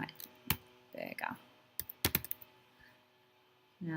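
Typing on a computer keyboard while working in Adobe Illustrator, a few sharp separate key clicks and short bursts of tapping with quiet gaps between them.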